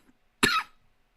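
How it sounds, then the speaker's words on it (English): One sharp, close cough bursts out after a brief silence and fades quickly, alone with no speech around it. "Still coughing a little bit, but let's keep going."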